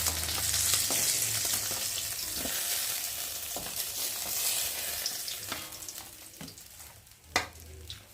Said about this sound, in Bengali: বেশ সুন্দর করে ভেজে নিয়েছি লাল লাল করে